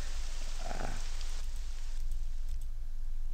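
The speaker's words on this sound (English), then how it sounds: "This rain, I'm gonna have to turn it down." Steady rain in the video game Morrowind, a constant hissing wash of raindrops at moderate level throughout, with a brief tonal game sound near the start and no voices.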